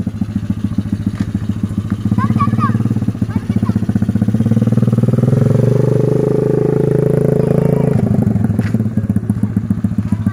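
A child rides a mini trail motorbike with the small engine running close by, chugging, then revving louder through the middle before settling, with faint voices underneath.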